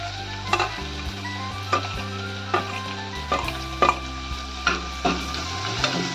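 Asafoetida goes into fried onion in a pan for toor dal amti, a quiet sizzle with regular spoon clinks and scrapes while a low hum drones underneath.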